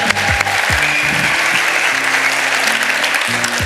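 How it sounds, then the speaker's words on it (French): Sustained audience applause at a WikiStage Algiers event, dense and steady throughout, thanking the volunteer organisers, with faint talk and low tones beneath the clapping. "On les applaudit, s'il vous plaît."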